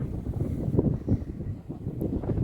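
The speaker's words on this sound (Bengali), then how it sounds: "খুব বাতাস বইতেছে, প্রচন্ড।" Strong wind in the Dubai desert buffets the microphone, a loud, gusting low rumble that rises and falls without pause.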